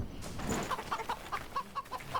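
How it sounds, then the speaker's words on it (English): A chicken in the survival game Enshrouded clucks in a quick, regular run of short calls, close and clear over faint game ambience. "Chicken!"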